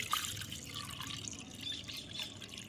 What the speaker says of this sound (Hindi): और अब इसको भर देते हैं पानी से।